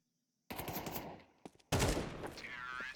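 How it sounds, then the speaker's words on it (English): An AK rifle firing bursts in Counter-Strike during a competitive esports match on the map Ancient: a short rattling burst after silence, then a louder, sustained volley of rapid shots. "Just a burst out of Obi's AK right there to seal it in."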